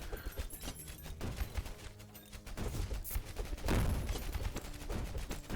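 Bombs dropped on a boss in the game Tower of Babel: Survivors of Chaos, a rapid string of crackling blasts and popping impacts, with a louder burst of explosions near the end.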